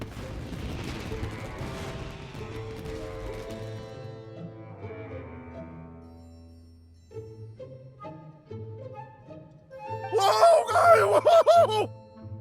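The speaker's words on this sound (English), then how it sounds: "Yoimiya, this is turning into a bit of a fireworks display." Fireworks burst and crackle in Genshin Impact, with dense popping early on and a bright cluster of explosions near the end, layered over soft melodic game music.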